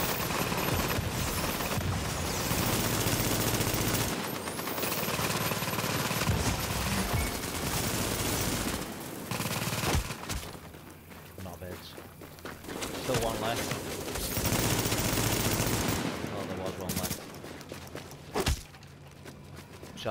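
Gunfire and automatic bursts in Tom Clancy's The Division rogue combat, dense and continuous over a busy game mix with footsteps and voices talking throughout.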